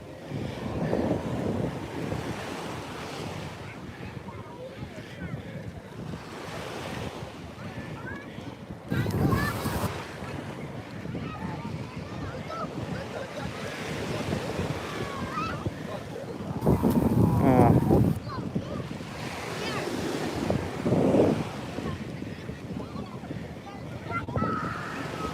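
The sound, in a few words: ocean waves at Coney Island beach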